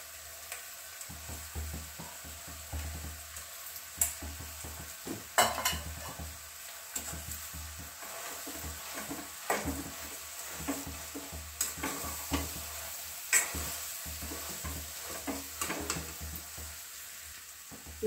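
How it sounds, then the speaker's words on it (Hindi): Mashed potatoes are stirred into semolina kachori dough in a pan, making soft, irregular scraping and squishing strokes with occasional sharper clicks of the spoon against the metal, quiet and close with no talking. "अब हम 4 आलू लिए हैं, इसको मैश कर लिए हैं, इसको भी डालकर इसमें मिक्स कर लेंगे।"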